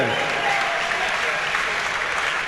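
A crowd gives sustained, loud applause for two boxers, Locklan Dart and Omer Gibb, after a four-round fight, as a dense unbroken roar of clapping with an announcer's voice carrying over it.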